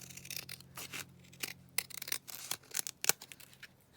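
Scissors trim the edges of paper pages for an envelope booklet, quiet close snips and rustling paper in short irregular bursts with a brief louder cut near the end.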